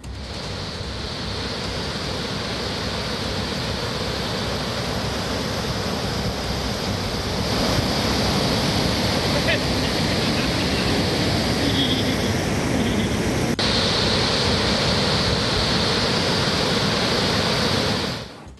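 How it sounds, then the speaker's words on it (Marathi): Water released from Chandoli dam into the Warna riverbed at 8530 cusecs makes a continuous, dense roar. It holds steady and loud for the whole span, with no voices over it. "चांदोली धरणातून 8530 क्युसेकने पाण्याचा विसर्ग वारणा नदीपात्रात करण्यात आलेला आहे"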